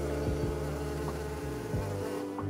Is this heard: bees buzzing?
yes